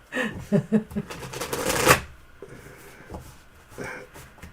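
Tarot cards are shuffled close by in a quick flurry of riffling snaps that builds to a dense burst, then fades into soft handling sounds and faint background voices.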